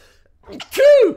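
A single sharp sneeze bursts out nearby after a short intake of breath, loud and alone against a quiet indoor background.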